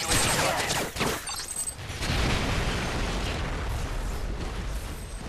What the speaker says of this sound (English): Grenade aveuglante!